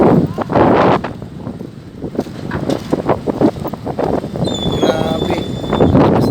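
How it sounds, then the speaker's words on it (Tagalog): Strong wind roars over the coast at Aroroy, Masbate, after a typhoon, a loud, steady gusting rush buffeting the microphone, with a faint voice and a short whistling tone near the end. "Lakas talaga ng hangin dito."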